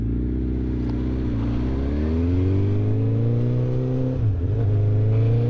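A BMW S1000XR motorcycle fitted with a Black Widow decat exhaust accelerates hard, its loud close engine note climbing steadily through the revs with a brief dip near a gear change, then rising again, with no talk.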